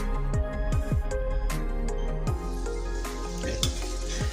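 Potato and onion pakoras deep-frying in hot oil over a low flame, giving a steady, dense sizzle and bubbling with a few clinks of a utensil stirring, close and with no talk.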